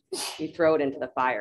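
A single sharp sneeze bursts out at the start, close and loud, followed right away by a person talking.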